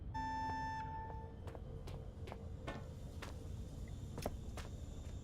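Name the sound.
beeping in video game Penumbra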